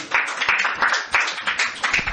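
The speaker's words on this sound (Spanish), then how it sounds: "Denle un aplauso al Rey bendito." A church congregation claps together in a loud, close, fairly regular rhythm of strong beats, without any speech over it.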